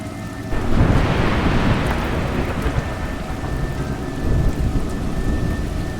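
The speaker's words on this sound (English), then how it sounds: "It's raining." Steady heavy rain in the video game A Juggler's Tale, with a deep rumble of thunder rolling underneath, a dense continuous wash of noise with no voices.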